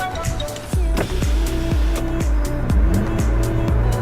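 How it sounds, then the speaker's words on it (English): A 2018 Chevy Cruze engine held at full throttle, loud and close, with a revving drone punctuated by a rapid series of sharp rhythmic pulses, roughly two per second, that repeat throughout. "I'm gonna floor it. Listen to this."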